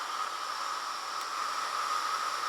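A hair dryer and heat gun running together on an EHOM EP1650 power station: steady, loud airflow hiss with a whining motor tone droning on evenly nearby, no speech.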